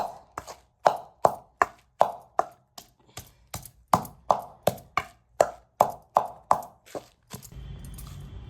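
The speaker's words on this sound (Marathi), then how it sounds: "लसूण चेचून घ्यायचा हे सगळं थोडं चेचून घ्यायचं" Garlic being crushed by hand for a Maharashtrian brinjal bharit: a steady series of about fifteen sharp, close thuds in a regular pounding rhythm, followed by a brief low rumble.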